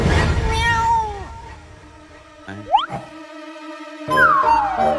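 A cartoon lion cub lets out high, sliding cat-like meows instead of a roar, three cries spread across a few seconds with whistly effects and a boing-like swoop between them.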